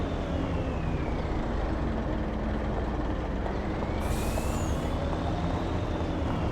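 Video game semi truck engine droning steadily while maneuvering a trailer, a loud continuous low rumble with a rising and falling whine and a brief hiss partway through, no talk.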